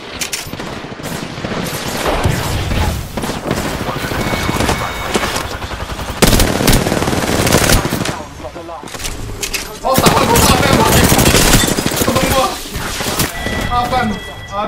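Sustained Apex Legends gunfight: loud bursts of automatic fire and single shots crackle almost continuously, with heavier impacts and brief lulls mixed under game voices and player chatter.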